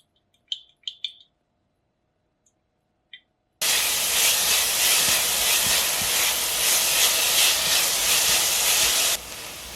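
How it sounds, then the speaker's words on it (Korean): Chopped onions with salt and oil hitting a hot pot, a few faint clinks first, then a sudden loud, steady sizzle that holds for several seconds before easing slightly. "냄비에 썰어 놓은 양파를 넣고 소금 2꼬집과 오일 2큰술 넣으세요"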